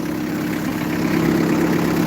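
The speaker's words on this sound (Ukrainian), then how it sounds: "Трактор 96-го року." A 1996 tractor engine idles nearby, a steady, loud, low mechanical rumble with a constant hum and no break, heard on its own.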